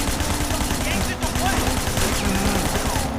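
Bursts of rapid gunfire rattle through a shootout in the video game Sleeping Dogs, loud and close, with continuous action noise.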